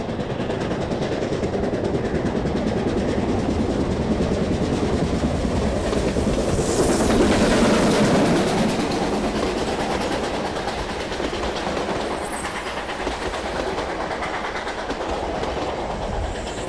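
Locomotive 942 runs tender first along the Rotorua branch line, producing a loud, close, continuous rumble with rhythmic clickety-clack from the wheels that swells midway and carries on steadily, with no voices.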